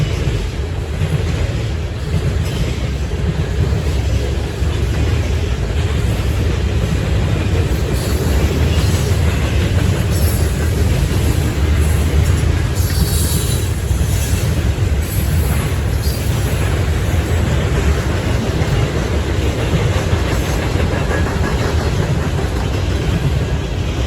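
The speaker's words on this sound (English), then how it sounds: "Norfolk Southern 10Q would show up with the solo ace leading" Norfolk Southern freight train passing at Berea, Ohio: a loud, continuous low rumble of locomotives and rolling wagons fills the whole stretch, with faint wheel clatter and hiss, no voices.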